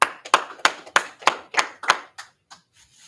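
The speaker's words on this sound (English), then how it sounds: "Clap it up one time." A group claps in a quick run of about ten sharp, separate claps that thin out and fade toward the end, close and loud, with no talking.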